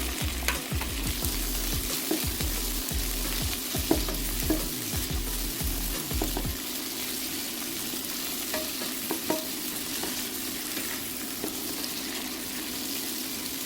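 Squid stir-frying in oil in a pan, with a steady sizzle under repeated scraping and stirring strokes of a utensil, the clattering busy early then easing into a quieter sizzle.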